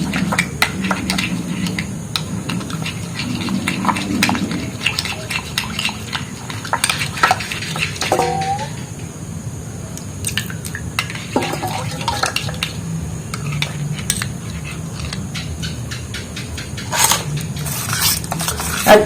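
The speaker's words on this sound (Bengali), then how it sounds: "এবার চুনটা ডিমের মধ্যে আমি ভালোভাবে পেস্ট গুলে নিচ্ছি।" Lime paste being stirred into egg in a bowl for palm-fruit pitha, with continuous close scraping and clinking of a spoon against the bowl and irregular taps and knocks throughout.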